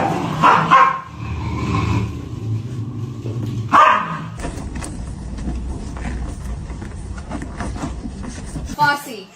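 Puppies bark in short bursts close by while people talk and call over a steady background rumble.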